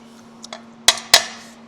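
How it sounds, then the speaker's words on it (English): Two light taps followed by two sharp metallic strikes of a hammer on metal during a Husqvarna K971 repair, close up, with a short ringing decay after the last hit. "Take my hammer and tap on that."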